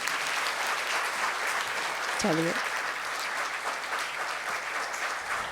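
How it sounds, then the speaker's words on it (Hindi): Sustained applause from an audience at a Hindi Pakhwada 2022 prize-giving ceremony with the Lok Sabha Speaker, steady and dense throughout, with a brief spoken word rising over the clapping. "लेकिन मुझे लगा जब आखिरी बार ताली बजानी थी तब क्यों कमी रह गई।"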